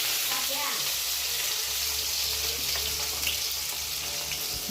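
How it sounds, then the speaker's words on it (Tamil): Sliced onions dropped into hot oil with mustard seeds while frying for a drumstick varuval, a loud steady crackling sizzle close up that fills the whole stretch without speech. "எண்ணெய் ஊற்றி கடுகு போட்டேன் இந்த டைமில் வந்து வெங்காயம் போடுறோம்"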